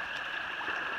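A small mountain stream on the Appalachian Trail, swollen after heavy rain, gives a steady, close rushing wash of flowing water with no pauses.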